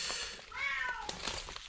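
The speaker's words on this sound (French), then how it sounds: "c'est normal que ça fait miaou miaou" A cat meows once in a rising and falling call, fairly close and moderately loud, with faint background noise and light clicks around it.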